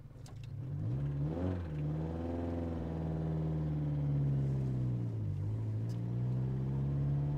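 Toyota MR2 engine idling roughly after repair, a steady close rumbling drone with an uneven, wavering pitch and a brief rev near the start.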